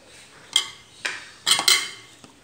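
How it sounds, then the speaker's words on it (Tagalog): A utensil stirs egg into a banana blossom patty mixture in a bowl, making four sharp clinks against the dish in an uneven rhythm, close and clear, with no voices. "Halo na natin yung egg dito."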